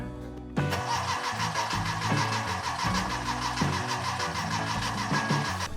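After a click, a starter motor cranks a Porsche 914's rebuilt VW Type IV 2056 engine in a steady, pulsing rhythm for several seconds, turning over repeatedly but never firing up.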